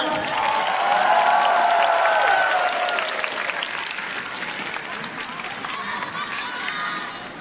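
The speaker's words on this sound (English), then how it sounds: "Give them a round of applause, everyone." Anime convention closing-ceremony audience applauds and cheers for an idol group, a dense, loud wash of clapping with whoops and voices that eases slightly toward the end.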